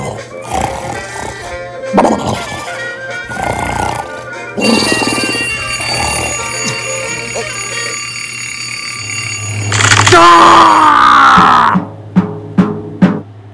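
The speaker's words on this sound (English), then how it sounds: "It sounds like he was just awakened by his alarm clock." An alarm clock in the animated series Wowser rings loudly in bursts, with rising and falling tones and a jangling ring near the end, over busy background music.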